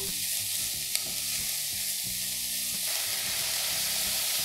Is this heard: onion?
yes